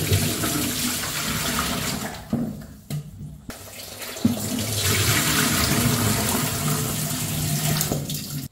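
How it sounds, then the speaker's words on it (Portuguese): Tap water runs steadily into a kitchen sink while salted meat is rinsed, a continuous loud splashing with a few brief dips and bumps. "Tirei a água, enxaguei mais de uma vez para tirar o sal todo."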